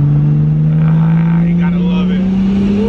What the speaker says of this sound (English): Back on to the exhaust of the Supra, which sounds amazing right now.